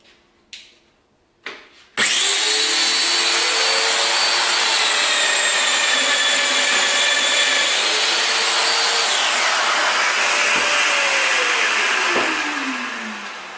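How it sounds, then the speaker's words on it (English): A Festool Domino DF 500 Q joiner plunge-cuts a joint in timber, a loud sustained whining motor hum after a couple of clicks, pitch dipping as the cutter bites, then winding down. "And then we switch on and we plunge and we cut at the speed the cutter wants to cut at, nice and gently removing the material."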